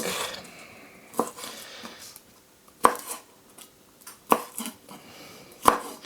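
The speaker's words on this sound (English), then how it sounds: "I give them a bit of a splat with a knife. And just chop them roughly, really." Garlic cloves are smashed with a knife blade and roughly chopped on a board, with sharp, irregularly spaced knocks against the wood and quieter scraping between them.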